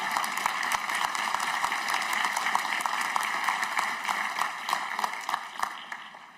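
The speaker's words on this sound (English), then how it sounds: "You can clap." Commencement ceremony audience clapping steadily in a large hall, a dense sustained patter of many hands that fades slightly toward the end.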